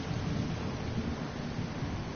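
Rain falls on a planet in the video game No Man's Sky with low thunder rumbling through it, a dense, steady wash of noise that stays loud and unbroken for the whole span.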